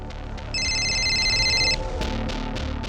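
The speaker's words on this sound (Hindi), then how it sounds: "खबरी नदीम का फोन है सर" A short electronic phone ringtone chimes for about a second over quiet room noise, followed by faint clicks.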